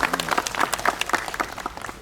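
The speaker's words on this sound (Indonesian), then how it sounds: "Tepuk tangan." Brief applause from a gathered audience at an official welcoming event in Dili, Timor-Leste, a short burst of scattered clapping, moderately faint and fading after two seconds.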